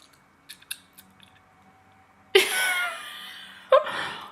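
A voice imitates open-mouthed chewing with wet, smacking mouth sounds: a few faint clicks first, then two louder, close bursts of squelchy smacking.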